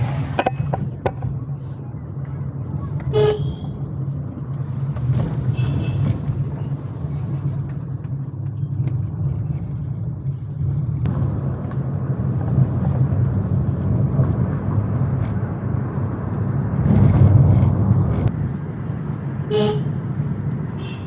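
A car drives along a road in rural hill country, its low, steady rumble of engine and road noise continuous throughout. Occasional clicks and brief tonal toots break through, and a swell of heavier rumble comes near the end.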